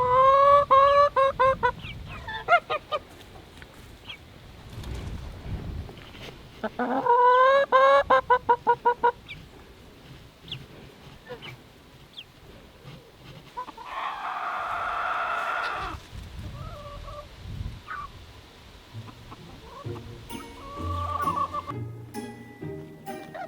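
Chickens cluck and squawk outdoors in the snow beside a goose, a few loud bursts of rhythmic clucking standing out against a quiet, windy background, with other faint bird calls scattered through.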